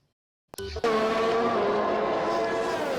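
Race cars in the F1 2021 video game run under safety car conditions at the British circuit. A short burst of noise gives way to a loud, steady engine drone that holds at an even pitch.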